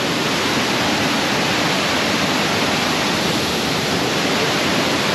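A waterfall in the Philippines pours with a loud, constant, close rush of white-water noise that never lets up, with no voices.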